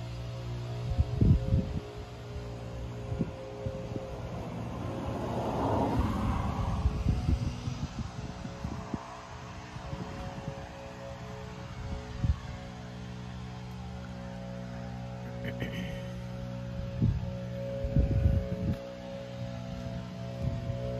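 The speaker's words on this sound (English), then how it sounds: "Pardon the noise, somebody's leaf blowing." A gas-powered leaf blower runs somewhere nearby outside in summer, a steady droning whine that swells and fades across the span, with occasional close clunks and knocks near a 1973 Ford F250 Custom 4x4 pickup.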